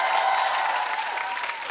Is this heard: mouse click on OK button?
no